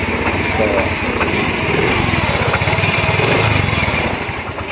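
Small motorcycle with a dead battery, running after being push-started, its engine idling with a fast, rattling putter that stays steady and loud, while someone talks over it.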